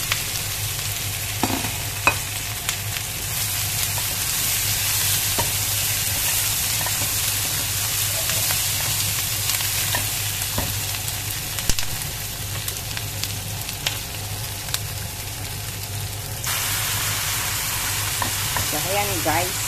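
Pork chop frying in a pan gives a loud, steady sizzle and hiss throughout, close by, with a few faint clicks and stirring touches over the constant spatter.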